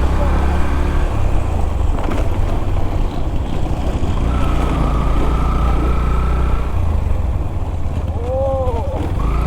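A car engine running on a road trip, with a continuous loud low rumble and road noise throughout and a steady drone up close.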